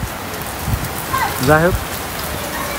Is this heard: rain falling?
yes